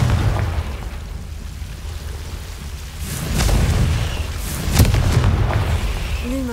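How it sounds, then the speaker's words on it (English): Confringo fire spell cast in Hogwarts Legacy, bursting as booming explosions, two heavy blasts a couple of seconds apart over a low rumbling game backdrop. "Confringo!"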